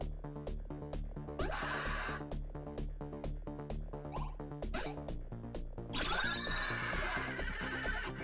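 A horse neighing in the video game Cyberpunk 2077, whinnies and clip-clop hooves over a rhythmic music track with a strong repeating beat, moderately loud and without talk.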